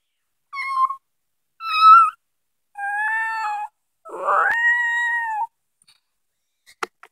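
A person mimics a cat's meow, giving four drawn-out, tonal meow-like calls one after another, close and clear, followed by silence and a couple of faint clicks.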